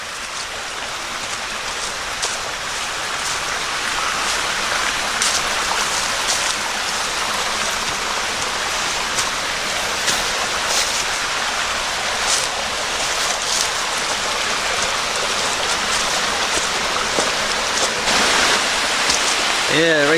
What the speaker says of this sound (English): and just up here is the waterfall.